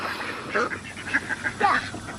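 Ducks at a farm fence give several loud, repeated quacks and honks in quick bursts, close by, while people talk quietly in the background.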